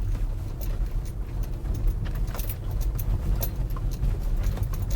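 An Audi A4 B8 sedan on ECS Tuning coilovers rolls over a potholed, unpaved road, with steady road rumble, repeated knocks and rattles from the suspension, and jingling interior clatter throughout.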